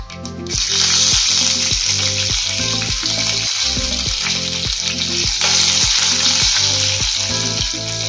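Curry leaves crackling in hot oil for a tempering, for a cucumber chutney: loud, continuous close sizzling and spattering throughout, with no talk.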